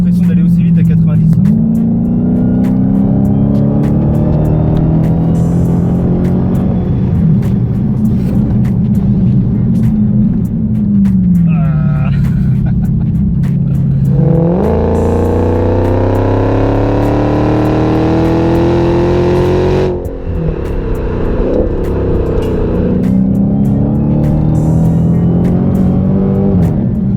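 A supercharged 707-horsepower 2016 Dodge Challenger Hellcat revs and accelerates in repeated climbing pulls, with a harsh, loud full-throttle surge midway. The engine stays close and prominent throughout.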